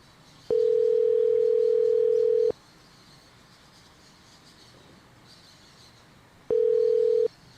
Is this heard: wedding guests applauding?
no